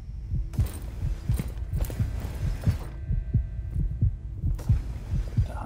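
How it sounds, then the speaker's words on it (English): A steady heartbeat in the video game Jurassic World Aftermath thumps in regular double beats under a low hum, loud and close, with no talking. "The heartbeat's gonna get a bit annoying"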